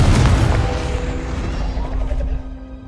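A loud, close booming blast from the Confringo spell in the Hogwarts Legacy video game, a single heavy explosion that rumbles and decays over a couple of seconds.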